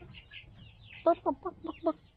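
Backyard chickens waiting for feed give a quick series of about five short, close clucks in an uneven rhythm after a quiet moment with faint background noise.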